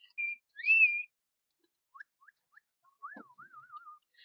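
A person whistles in short sliding tones, a few brief chirps, then a warbling trill, fairly close and clear against near silence.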